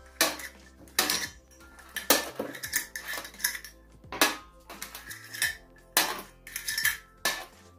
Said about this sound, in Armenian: Ամանները գեղեցիկ կշարենք։